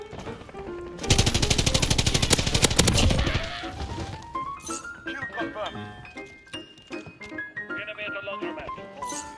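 Rapid automatic gunfire in the game Modern Warfare, a loud sustained burst of shots over about two seconds, followed by scattered game sounds and clinks while a player talks excitedly.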